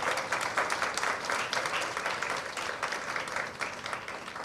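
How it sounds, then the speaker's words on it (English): Audience clapping steadily at a Justices of the Peace commissioning ceremony in Kingston, Jamaica, a dense, sustained round of applause filling the room without a break. "Please give them a round of applause."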